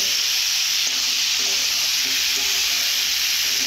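Meat frying with turmeric and spices in a pan, a constant loud sizzle with a few light stirring clinks, close and without talk.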